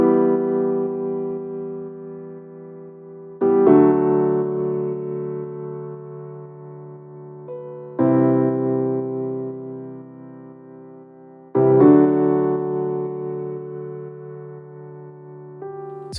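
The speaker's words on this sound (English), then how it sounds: "So for this, I used the stock Ableton grand piano." Sustained chords on a stock Ableton grand piano, struck four times at steady intervals, each chord ringing and slowly decaying before the next, with no voices.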